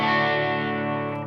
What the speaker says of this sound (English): I was really liking that wee Joyo US Dream pedal with a small amount of distortion